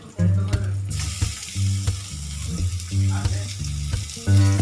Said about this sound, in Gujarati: ટામેટાં નાખીને આપણે હલાવી દઈશું